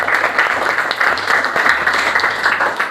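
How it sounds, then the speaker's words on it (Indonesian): A classroom of students claps for a classmate during a school religious-education lesson, a brief dense burst of hand claps filling the whole moment at a steady, moderately loud level. "Oke, tepuk tangan dulu untuk dia."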